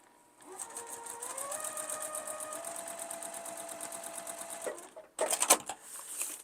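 A sewing machine runs steadily while stitching a quilt block seam, a close, continuous whirring hum with rapid needle beats lasting several seconds, then a short burst of louder clacking and handling noise after it stops.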